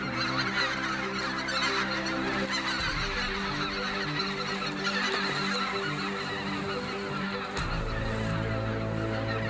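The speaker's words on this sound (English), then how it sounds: "This evasive, very cautious white-fronted goose just kept pouring over our field." Flocks of white-fronted geese pour over a field, their loud, continuous honking calls overlapping in a dense chorus overhead.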